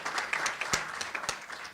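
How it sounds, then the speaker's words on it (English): Brief scattered clapping from a small group of Fight CRC advocates, faint and uneven with a few distinct sharp claps standing out. "give yourselves a round of applause"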